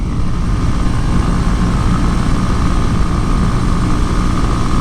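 A 2018 Honda Grom motorcycle engine drones steadily and loudly throughout while riding downhill in a tuck, a continuous dense roar with wind rush and no talk.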